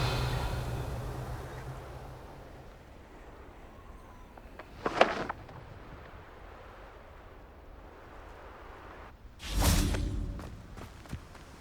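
Revelio spell cast in the video game Hogwarts Legacy, two separate airy whooshing bursts several seconds apart over a faint ambient background.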